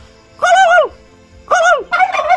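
A farmyard turkey gobbles twice in quick, warbling bursts, loud and close, with a brief third call trailing at the end against a quiet background.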